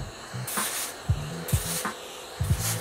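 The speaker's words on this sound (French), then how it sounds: "On reprend son petit spray. On mouille et on recommence." A small spray bottle mists water onto an Air Max 1 sneaker during reshaping, giving several short, close hissing bursts in an uneven rhythm, with soft handling clicks between them.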